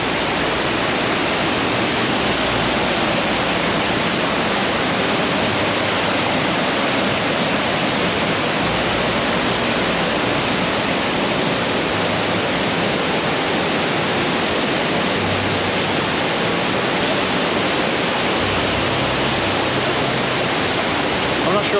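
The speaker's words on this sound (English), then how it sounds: "is always this much water cascading down" A powerful waterfall at Krka National Park, Croatia, swollen after overnight rain, roars as a dense, unbroken rush of cascading water, loud and close throughout with no pauses.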